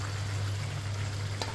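Onions and garlic sautéing in a pan for pork steak, a steady close sizzle with bubbling oil that continues evenly throughout, backed by a low constant hum.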